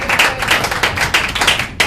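A church congregation claps and cheers in acclamation during a worship service, with dense, rapid, close handclaps throughout the short burst.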